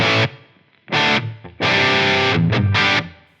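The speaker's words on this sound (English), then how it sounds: "Okay, I'm going to put my reverb in." Distorted electric guitar played through a Line 6 Helix with subtle reverb, loud chords struck in short bursts with brief gaps and a soft reverb tail between them.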